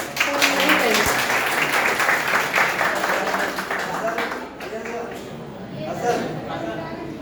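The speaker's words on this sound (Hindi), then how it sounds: "तालियां बहुत जोरदार होनी है।" Applause from a seminar audience at a college B.Ed. department event fills the room, a dense steady clatter of many hands that thins out midway before swelling again near the end, with voices mixed in.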